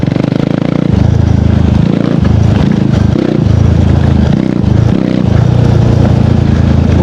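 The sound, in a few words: KTM Duke 390 motorcycle revving at speed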